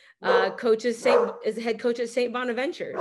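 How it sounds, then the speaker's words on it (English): A pet dog barks and yips repeatedly in a home while someone talks continuously over it, the barking blended under his voice. "Sorry, that's my dog."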